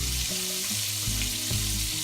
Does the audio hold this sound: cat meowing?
no